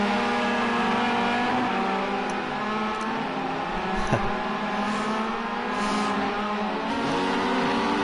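Race cars in a racing video game on the Oschersleben C course drift through a sharp right-hand corner using the handbrake. Several engines drone and whine together with shifting pitch and faint tyre squeal, steady and fairly loud, with no voices.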